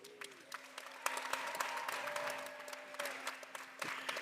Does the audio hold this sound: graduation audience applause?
yes